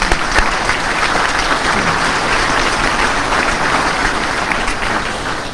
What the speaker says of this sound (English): Please join me in a round of applause.